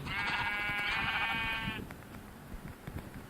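A sheep in the Minecraft video game gives one long, wavering bleat close by over constant background hiss, and then the bleating stops.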